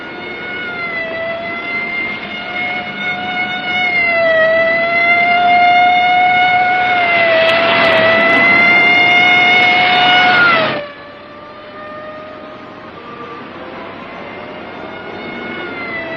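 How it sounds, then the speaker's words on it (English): A police car siren wails loudly and steadily, a rising and falling tone that holds strong for about eleven seconds before cutting off abruptly, leaving lower background noise. "Lay on the siren. Give it everything."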